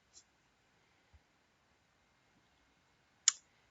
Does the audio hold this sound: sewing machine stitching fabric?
no